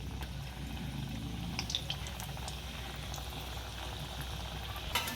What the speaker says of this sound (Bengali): আর এদিকে আমি কড়াতে তেল দিয়ে দিয়েছি। তেলটা গরম হলে আমি এই কাটিংগুলো ওতে দেবো।